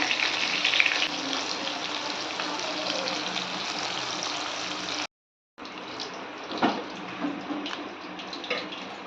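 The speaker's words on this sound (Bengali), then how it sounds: "এই দেখো মাছ ভাজা হচ্ছে" Rohu fish pieces fry in hot oil with a continuous close sizzle and crackle. The sound is briefly cut off partway through, then resumes with occasional louder spits, and no one speaks.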